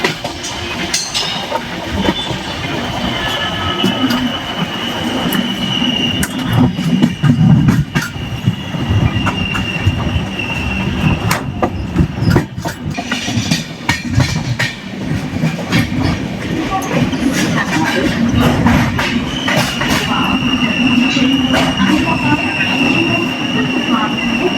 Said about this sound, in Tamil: நம்ம வண்டி டிபார்ட்டட் ஃப்ரம் உத்னாங்க